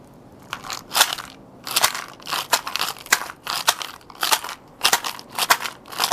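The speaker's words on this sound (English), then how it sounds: "We'll transmit sacred rattle sound to you now." A sacred rattle shaken in bursts during a guided meditation, giving dry crackling, seed-like rustles in repeated short shakes with brief pauses, fairly close and alone.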